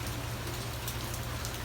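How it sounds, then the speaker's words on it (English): Steady rain falls in Key West, a dense, even hiss of drops on surfaces with no pauses. "So I guess it's just going to continue to rain for a while."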